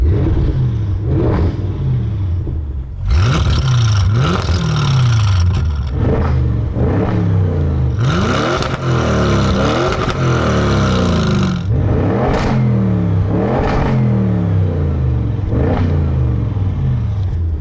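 An Audi RS6, bought from GMK, revs hard repeatedly, each blip rising steeply and falling back, loud and close, with deep rumbling, popping and crackling between the revs over a sustained engine roar.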